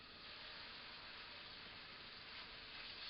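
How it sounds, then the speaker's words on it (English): Beef tenderloin searing in olive oil in a pan, a steady, even hiss and sizzle that holds without break, quiet and close. "we're just going to sear all around the tenderloin"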